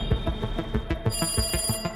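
Telephone bell ringing in a horror story, a steady trill of rapid repeated rings lasting throughout, fairly loud and close with no talk.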